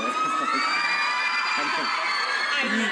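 Fans scream and cheer at a Twilight Breaking Dawn fan event in Brussels, with a dense, sustained high-pitched wall of shrieks and whoops from a large crowd filling the whole stretch.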